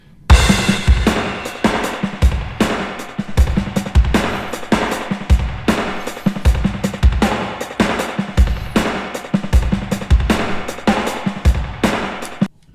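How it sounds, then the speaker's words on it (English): A distorted delay made by a RAT pedal recorded alongside a drum track, giving a dense, gritty, loud wash with rhythmic bursts that repeat steadily throughout. "and then it was making like a little distorted type of delay."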